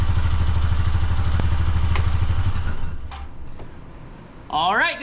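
A rebuilt Honda Pioneer 500 engine idles with a steady low rumble for about three seconds, then cuts out, followed by a few clatters and a brief voice at the end.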